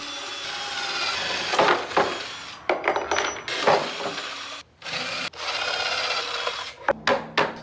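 Power drill boring wiring holes through a wooden board, loud close grinding bursts that start and stop repeatedly with short pauses between passes, no voices.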